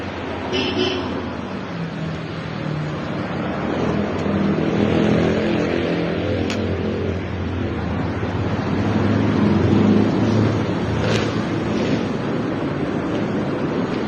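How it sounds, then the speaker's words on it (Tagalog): Vehicle engine idling with a steady low rumble over wind-like background noise, close and continuous throughout. "Ayan po ang kanyang makina."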